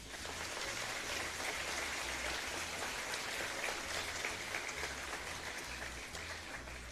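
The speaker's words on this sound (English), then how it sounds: "Please give all the graduates a round of applause." Graduates at a business academy graduation ceremony in the Seychelles receive sustained applause from the audience, an even crackling patter of many hands at moderate distance that continues unbroken, with a faint low hum beneath.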